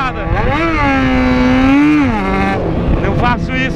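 A Yamaha XJ6 motorcycle engine with a worn, slipping clutch revs loudly and close, the pitch rising and holding then falling and wavering unevenly.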